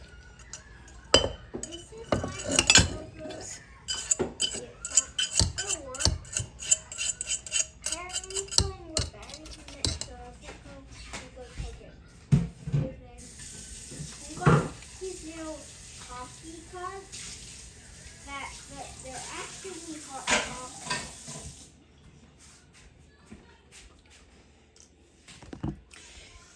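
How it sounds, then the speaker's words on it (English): Quick metallic clinks and scraping of a mini whisk working around a pot, scattered in uneven bursts throughout, with a voice talking over much of it. "I just take my little mini whisk and whisk it around."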